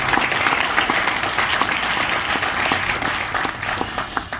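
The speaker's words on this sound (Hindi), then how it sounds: "एक बार जोरदार तालियों से स्वागत कीजिए हमारे सब सर के लिए, जोरदार तालियां" Sustained applause from an audience at a business meeting in a Raipur hotel, dense steady clapping that holds for the whole stretch with a faint murmur of the crowd underneath.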